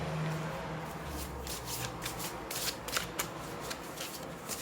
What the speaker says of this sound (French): On va tirer une dernière carte.